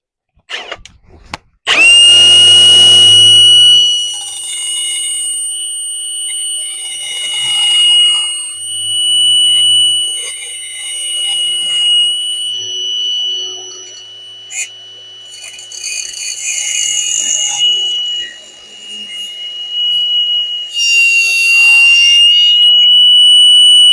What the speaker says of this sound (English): We'll take the grinder.